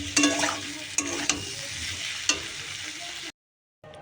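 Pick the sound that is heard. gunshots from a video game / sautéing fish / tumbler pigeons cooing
sautéing fish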